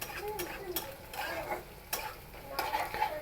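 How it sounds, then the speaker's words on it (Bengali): Spice paste frying in a pan under constant stirring, with a low sizzle and repeated scrapes and taps of the utensil at close range. "এ পর্যায়ে আমি পেস্টটা অনেক সুন্দর করে ভাজবো অনবরত নাড়াচাড়া দিব"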